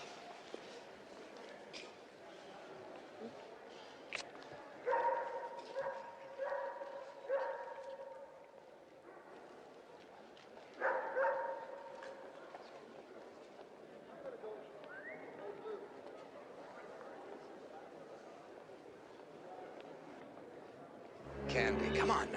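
Puppies bark and whimper in short bursts, some close and some farther off, heard in a quiet room, with a voice talking near the end.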